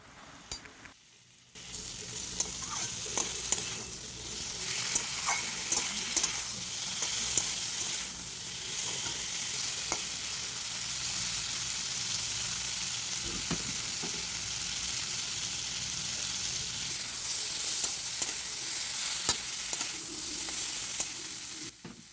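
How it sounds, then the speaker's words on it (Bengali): Fried potato and kakrol being stirred with spices in a pan, a continuous close sizzle with repeated scraping and clinking of the spatula against the pan, no talking. "ভালো করে সমস্ত সবজি মিশিয়ে নেওয়া হচ্ছে মশলার সাথে"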